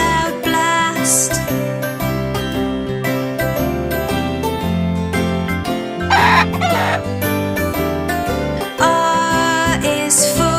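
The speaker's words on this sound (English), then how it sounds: "R is for rooster, a male bird. In the morning it is heard, cock-a-doodle-doo, to welcome the day that is new." A rooster crows cock-a-doodle-doo with clucking fowl, set against loud, steady rhythmic music in a children's alphabet song.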